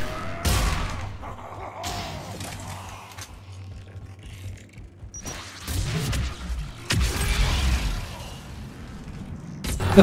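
Missile explosions in the Mass Effect 3 video game: heavy booming blasts burst out at intervals, loud and close, with rumbling debris between them over steady game noise.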